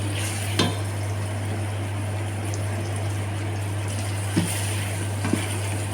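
Pink pasta sauce with chicken being stirred in a pan, a steady soft sizzle over a constant low hum, with a few faint scraping clicks of the utensil against the pan.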